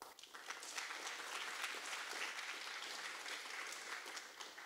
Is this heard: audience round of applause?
yes